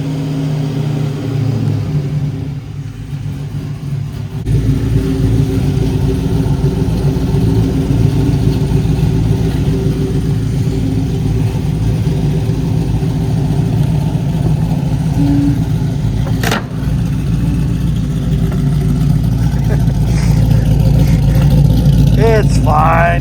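A 1968 Chevelle with a cammed 5.3L LS swap rumbles loudly from inside the car, idling and then pulling away with a deep, steady engine drone and occasional revs while people talk over it.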